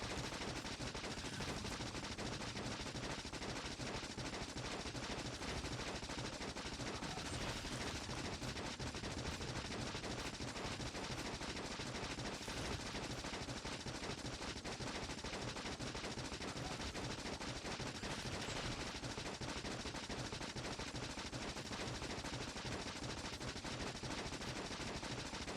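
Dense, continuous gunfire in the factory-building game Factorio, a steady loud rattle of rapid shots with no pauses throughout.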